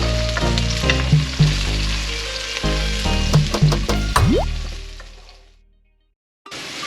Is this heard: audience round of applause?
no